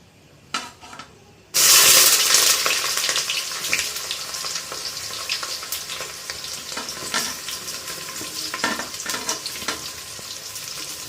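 Onions drop into hot oil and burst into a loud sizzle that then settles into a steady frying crackle, with brief stirring clicks along the way.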